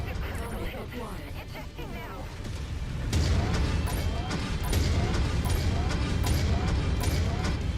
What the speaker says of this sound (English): Damn, those auto cannons.